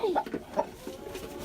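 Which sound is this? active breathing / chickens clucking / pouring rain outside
chickens clucking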